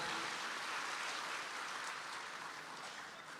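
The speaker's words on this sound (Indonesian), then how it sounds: "kita tepuk tangan untuk yang berani tampil ke depan" Steady, dense applause from an audience at an official gathering, a broad wash of many hands clapping continuously at moderate distance, fading slightly toward the end.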